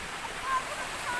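A clean river flows at Abacsa in Bauan, Batangas, near a bamboo bridge. It gives a steady rushing wash of water, close and even, for a brief moment.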